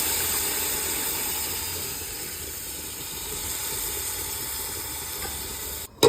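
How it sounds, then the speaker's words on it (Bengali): Hot water poured into a pot of frying meat and rice for pulao, producing a steady loud steam hiss that fades slightly and then ends abruptly. "হাঁড়ি থেকে গরম জল চলে যাচ্ছে মাংসের মধ্যে।"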